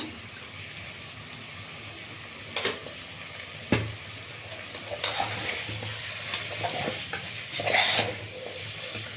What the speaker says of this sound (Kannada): ಈಗ ಚಿಕನ್ ಎಣ್ಣೆನಲ್ಲಿ ಫ್ರೈ ಆಗಿದೆ